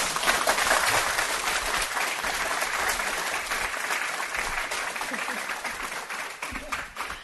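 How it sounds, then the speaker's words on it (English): A seated audience at a panel discussion on California's SB100 and 100% clean energy gives its speakers a sustained round of applause, a thick wash of clapping that starts strong and eases off gradually over several seconds. "I'd like to give a round of applause for our speakers"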